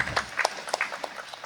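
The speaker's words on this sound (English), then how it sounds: "you can clap for yourself" A festival masterclass audience clapping for themselves, a short scattered burst of claps, moderately close and fading out.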